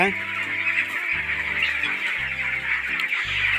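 Broiler chickens fill a crowded poultry farm shed with a continuous dense chorus of clucking and chirping, with no single bird standing out above the steady flock noise.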